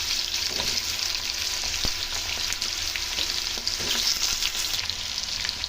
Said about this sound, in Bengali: এবার তেলের মধ্যে আলুগুলো দিয়ে আলুগুলোকে আমি আগে একটু ভেজে দেবো